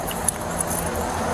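Car keys jangle close by in a few quick metallic clinks over a steady low background hum, brief and fairly loud.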